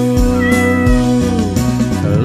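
A cat meows loudly and close several times in a row, drawn-out tonal cries with a quick rhythm, in a garden where stray cats are being fed.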